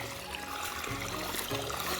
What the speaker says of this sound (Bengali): এই দেখো খেতে জল দিচ্ছে, ওই যে মোটর চলছে ওইখানে, এদিকে জল দিচ্ছে।